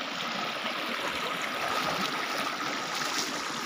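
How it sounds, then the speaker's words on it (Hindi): A stream of water near a village field rushes and gurgles like a small waterfall, a steady, broad wash of flowing water, moderately close and unbroken, with no talk. "इधर पानी बह के जा रहा है दोस्तों, देख सकते हैं इधर अच्छा से काफ़ी झरना जैसा एकदम पानी है"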